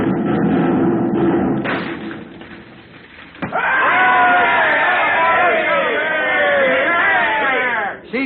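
Radio drama cannon fire sinking a captured ship: a heavy boom with a thud cuts through shouting crew voices, followed by loud overlapping yells and cries.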